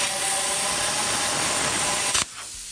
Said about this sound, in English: Drag the plasma torch.